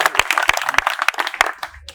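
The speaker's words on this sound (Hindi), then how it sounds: "अरे वाह, बहुत बढ़िया, इस बात पे तो तालियां होगी।" A small crowd at a village headman's nomination event claps in a brisk, uneven burst of individual hand claps, fairly close and loud for two seconds.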